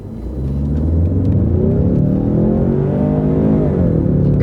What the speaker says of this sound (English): We'll hit it hard, then we'll hit the brakes hard too.